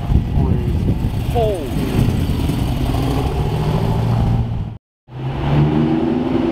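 A Shelby Cobra sports car drives by outdoors, its engine droning loudly beneath excited talk, with a brief total dropout near the end before the noise resumes.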